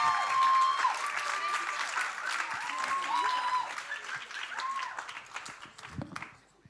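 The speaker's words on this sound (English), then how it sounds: "give these guys a massive round of applause" Enthusiastic audience applause at a national student competition grand final, full and sustained with some cheering and voices mixed in, then tapering off and fading out near the end.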